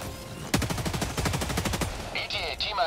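A machine gun in a video game fires a rapid burst of evenly spaced shots for over a second, loud and close, followed by quieter electronic game tones near the end.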